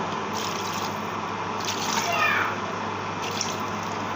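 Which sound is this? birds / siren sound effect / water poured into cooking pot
water poured into cooking pot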